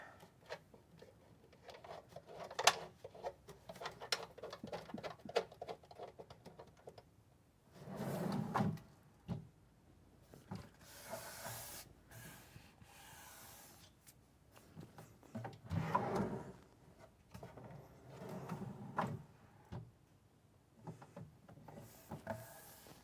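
A kitchen galley drawer in a camper van slides open and shut repeatedly, with scattered knocks, thumps and rattles of wood and runners, close by and intermittent against a quiet background.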